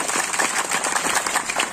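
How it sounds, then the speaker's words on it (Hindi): Audience applause at a Nainwa municipality land-lease distribution event, a steady wash of many hands clapping at close to moderate distance with no voices on top, sustained evenly throughout. "एक बार जोरदार ताली।"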